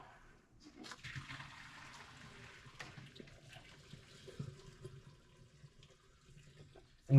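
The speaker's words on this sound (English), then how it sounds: "drain out the last of the water in the bottom of this" The last of the water drains out from the bottom of a pot used to steam blue crabs, a close gushing and gurgling rush with uneven swells and splashes, ending in a sharp knock.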